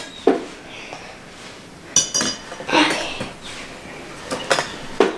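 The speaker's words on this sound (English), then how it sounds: "Now we're gonna take it out onto the pan. Well, the wire rack," A loaf of banana bread is turned out of a greased metal loaf pan onto a wire rack. Several sharp metallic clanks and clinks come up close, scattered irregularly across a quiet background.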